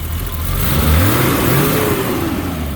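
A freshly tuned BMW 320i Touring engine, with new spark plugs and rotor, revs up and settles in a smooth steady rise and fall, loud and close with no talking.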